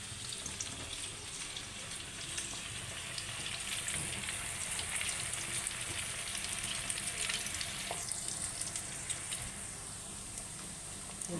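Onions frying in a pan for a beef and lentil curry give a steady, close sizzle with faint stirring scrapes, continuous and even throughout, with no one speaking.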